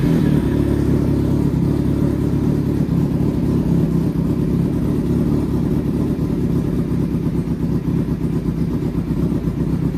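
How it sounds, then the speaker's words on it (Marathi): A Kawasaki Z800 superbike with a leaking radiator and coolant leak idles while warming up, a continuous close engine rumble with a fast mechanical pulse and slight clatter, steady and fairly loud with no talk. "वॉर्मअप किती वेळ घेते बघू गाडी"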